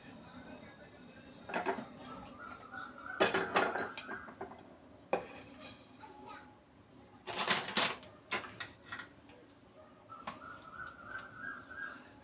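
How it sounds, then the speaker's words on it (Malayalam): A cooking pan set onto a kitchen stove, heard as several sharp metallic clanks and rattles in bursts, close by, with quiet background sounds between them. "ഇനി നമുക്ക് ചട്ടി അടുപ്പത്ത് വയ്ക്കാം കേട്ടോ"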